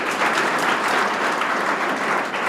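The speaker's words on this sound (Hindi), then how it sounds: "ताली बजाओ इसके लिए।" An audience at a speech at Prince Academy in Sikar bursts into loud, dense applause, many hands clapping steadily and closely without pause.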